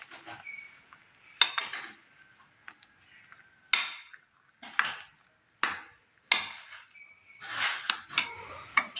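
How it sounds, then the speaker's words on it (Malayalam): Grated coconut being mixed in a bowl with semolina for a Kerala ripe plantain snack: sharp, irregular spoon scrapes and clinks against the bowl, close and fairly loud, separated by brief quiet gaps. "തേങ്ങ നല്ലതുപോലെ ഒന്ന് മിക്സ് ചെയ്തെടുക്കുക"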